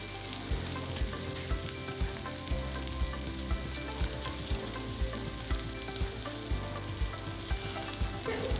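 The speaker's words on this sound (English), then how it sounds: "Now I'm just moving around the pan to get oil up underneath," Panko-coated mahi mahi fillets fry in oil in a pan, giving a dense, continuous sizzle with steady crackling; close and even throughout, no talking.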